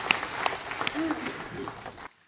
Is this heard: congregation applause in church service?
yes